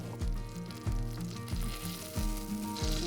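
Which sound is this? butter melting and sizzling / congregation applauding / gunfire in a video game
butter melting and sizzling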